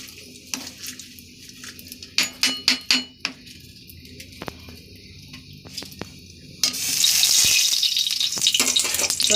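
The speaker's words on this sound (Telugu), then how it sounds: "ఇప్పుడు నూనె వేసిన చూడండి కడాయిలో." Cooking oil heating in a kadai: a few sharp clinks of pots and utensils, then a loud, steady sizzle that swells in and holds through the final seconds, with no talking.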